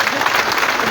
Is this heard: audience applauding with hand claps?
yes